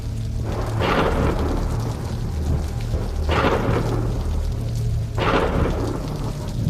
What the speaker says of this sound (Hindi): बिजलियों की कड़कड़ाने की आवाज कानों से होकर दिल को दहलाने लगी